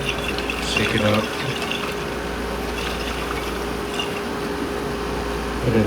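Water is poured into a nearly empty tomato sauce container in a small studio apartment, a trickling, splashing fill with faint clinks, heard close and fairly steadily.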